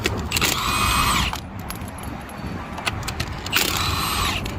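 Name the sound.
18-volt drill loosening Toyota Tacoma lug nuts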